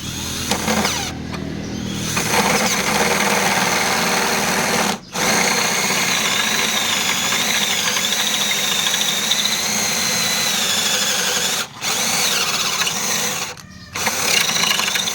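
A cordless drill whines steadily at high speed, grinding through a stuck metal bolt, with a few abrupt brief stops before it starts again.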